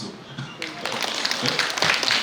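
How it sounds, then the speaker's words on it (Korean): Audience clapping breaks out at a science lecture on surgical robots, a dense patter of many hands growing louder over about two seconds, with voices mixed in. "와, 대단한데요? 박수."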